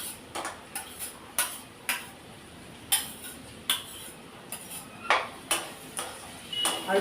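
A utensil stirring food frying in a pan on the stove for an Indian egg curry, with a steady series of sharp clinks and scrapes against the metal, spaced irregularly and fairly close.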